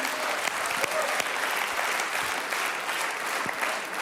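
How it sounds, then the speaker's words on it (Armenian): Studio audience at a comedy show clapping steadily and evenly, a dense, sustained round of applause with no voices over it. "Եկեք ծափարենք"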